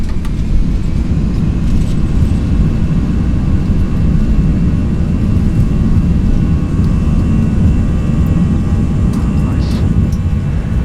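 Jet engine spooling up for takeoff in X-Plane 11, a steady loud broadband roar with a constant low rumble and faint high whine throughout, no talk heard.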